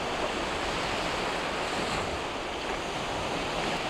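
Ocean waves wash steadily onto a beach near Villanova, a loud continuous surf roar with wind buffeting the microphone and no distinct breaks between swells.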